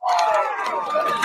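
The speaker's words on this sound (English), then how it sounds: "That's the crowd in the background" Crowd noise from a played video, a dense roar of many voices shouting and cheering at once, loud and continuous for a short stretch.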